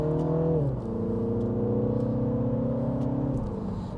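A 2017 MINI Cooper S Clubman engine drops in revs, then holds a steady drone under load with exhaust rumble before easing off near the end. It is heard close from inside the cabin with no talk.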